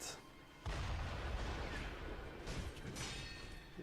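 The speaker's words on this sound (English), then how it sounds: "This was annoying because of all the cannons." Booming cannon fire in a video game, a sudden heavy blast followed by sustained rumbling and a few further impacts, fairly quiet overall.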